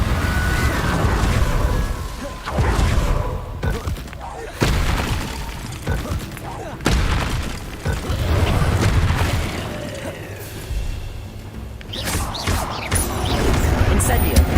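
Incendio fire spells cast repeatedly in Hogwarts Legacy gameplay, giving a series of loud whooshing bursts and booms, some crashing, over a dense layer of game music and effects.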